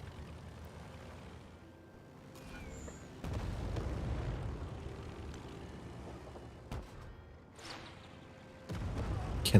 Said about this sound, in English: Oh, let's just do carpet bombing here.